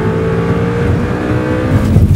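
A Ferrari F430 Spider's 420-horsepower V8, revving toward 8,000 rpm, holds a loud, steady, close engine roar that swells slightly near the end.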